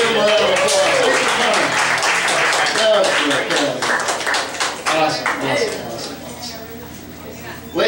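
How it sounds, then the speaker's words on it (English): Audience applause at a live variety show, dense clapping with a few cheers that fills the room, holding loud before thinning slightly toward the end as a voice begins to speak. "Give him a round of applause."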